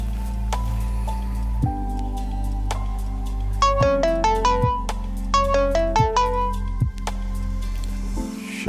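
A phone rings unanswered with a melodic electronic ringtone that repeats its tune several times in clear, bright bursts over a low background hum.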